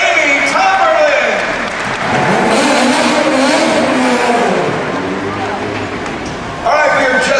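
A remote-controlled stunt show car at a Disney theme park live action show accelerates and revs with tire noise, passing near and away, while crowd applause and an announcer's voice run underneath.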